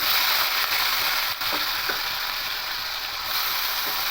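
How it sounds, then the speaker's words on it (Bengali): Thin-cut potatoes frying in hot oil tempered with nigella seeds, with a dense, loud, continuous sizzle and a few faint clicks of stirring underneath. "এবার এই তেলের মধ্যে সরু সরু করে কেটে রাখা আলুগুলো দিয়ে দেবো"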